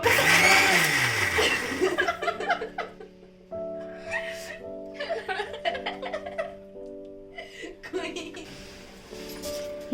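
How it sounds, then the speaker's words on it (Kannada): A kitchen mixer grinder switches on to blend a vegetable sago milkshake, a loud whirring roar at first, then gives way to laughter and chatter from children and adults. "ಆಮೇಲೆ ಮಿಕ್ಸರ್ ಅನ್ನ ಆನ್ ಮಾಡ್ತಾಳೆ ಅವಳು"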